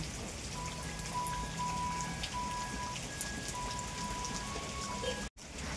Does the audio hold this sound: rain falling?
yes